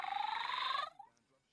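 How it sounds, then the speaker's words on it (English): A Wizarding World Puffle toy gives a brief buzzy electronic purr for under a second, close and fairly clear, then cuts off with a short chirp and silence. "They purr like a cat."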